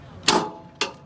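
A Halligan bar is struck twice during two-firefighter forcible entry on an inward-swinging door: two sharp, bright metallic impacts land about half a second apart, each ringing briefly before fading, with no speech.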